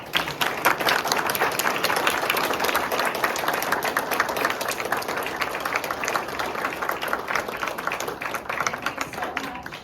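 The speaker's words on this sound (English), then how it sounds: "shall we have one more round of applause for all this hard work?" Sustained, loud audience applause at a graduation ceremony, with many hands clapping in a dense, even wash that holds steady throughout.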